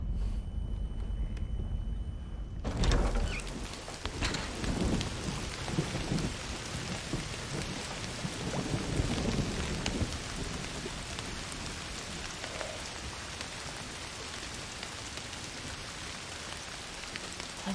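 Rain and thunder in the video game Indiana Jones and the Great Circle: a sudden thunderclap breaks in, followed by steady heavy rainfall with low rumbling and gusty noise, sustained and close, without voices.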